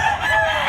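A bullstag gamecock, a young fighting rooster, gives a single short crow that is close and loud, with nothing else heard.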